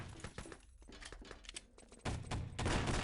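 Gunfire crackles through a competitive 3v3 LAN shooter match, with rapid clustered shots that grow louder and denser toward the end of the burst.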